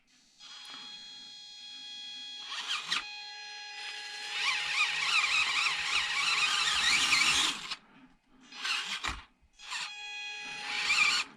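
Several 1/24 scale RC crawlers with Defender bodies (Hobby Plus CR-24, Amewi AMXRock AM24, RGT Outback) on budget upgrades and three-year-old tires climb a simple step. Their small electric motors whine in several bursts that rise and waver, close and fairly loud, with no talking.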